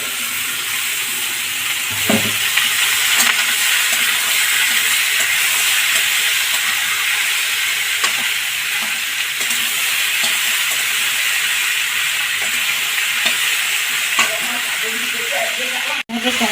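Cucumbers frying in a pan, a steady loud hiss and sizzle running throughout with occasional stirring clatters and a sharp clank near the end.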